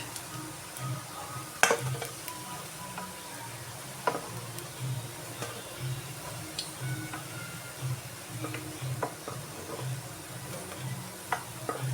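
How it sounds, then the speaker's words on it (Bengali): Banana flower fritters frying in oil give a soft, even sizzle, with scattered clicks and light utensil taps over a low, steady hum, fairly quiet throughout. "সুন্দর লাল লাল হয়ে ভাজা হয়ে গেছে"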